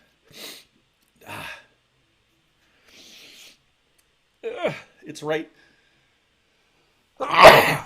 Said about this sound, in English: now I got a sneeze coming